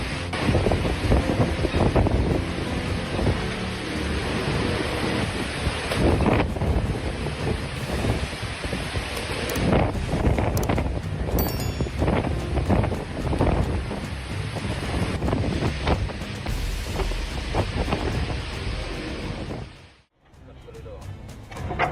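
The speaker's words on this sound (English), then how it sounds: "When the marina turns into an ocean, they know it's been one wild storm." Storm wind buffets the microphone as waves surge through a flooded marina, a loud, continuous roar of gusts and breaking water that cuts off abruptly near the end.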